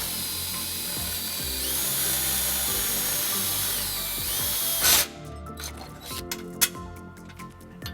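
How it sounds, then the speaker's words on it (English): A power drill with a 3/16-inch bit whirs steadily into a 2013 Nissan Xterra, rising then falling in pitch, stops, and is followed by scattered clicks and clatter of tools. "We're just going to drill the first hole using a 3/16 drill bit."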